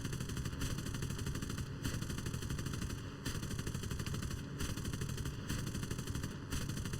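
Enemy aircraft machine guns in War Thunder chatter in a long steady stream over a droning engine, broken by short regular pauses, distant and fairly faint.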